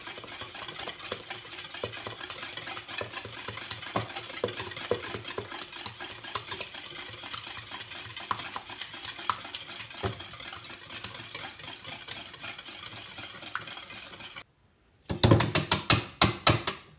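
Brownie batter being whisked after melted chocolate and butter are added, producing a continuous rapid clatter of whisk against bowl that stops briefly, then resumes with sharper, louder strokes.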